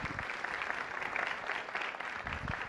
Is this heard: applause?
yes